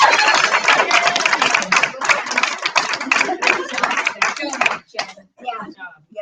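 A room of attendees at a Pittsburgh/Tri-State area meeting breaks into loud, dense applause that fills the room for about four seconds, then thins to a few scattered claps before stopping.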